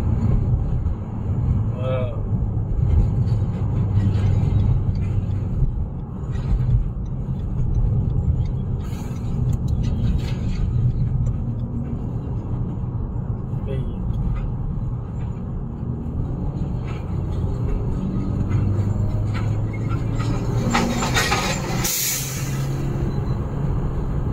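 A car drives along a city road in the early morning, a steady close engine and road rumble throughout, with a person talking over it and a brief hiss near the end.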